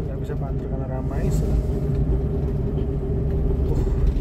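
A boxy Suzuki Karimun hatchback rolls through a busy upscale housing estate, its engine humming low and building in a steady drone as the throttle opens, with someone talking over it.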